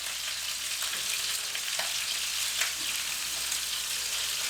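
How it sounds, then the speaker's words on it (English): Chicken pieces fry in hot oil in a pot, a steady close sizzle with faint bubbling pops and a few stirring scrapes. "Get them fried up a bit more."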